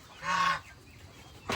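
A single goose gives one clear honk near a goose house, close and moderately loud, followed by quiet and the start of another call at the end.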